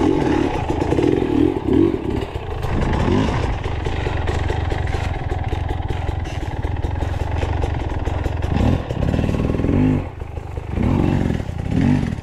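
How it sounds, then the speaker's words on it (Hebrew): A motorcycle on the Hatfield McCoy Rock House Trail being moved, its engine running and revving unevenly with clattering and scraping bursts throughout, loud and close, no talk. "תן לי להזיז את אופנוע."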